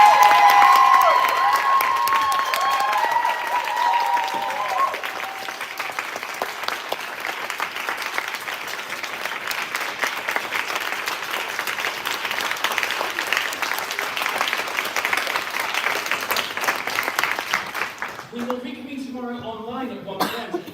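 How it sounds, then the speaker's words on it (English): Sustained audience applause honors presenters at the Mary Baldwin University Shakespeare MLitt thesis festival, a dense steady clapping that runs for nearly twenty seconds with scattered coughs before fading into a voice starting to talk. "please give all of our presenters an enormous round of applause"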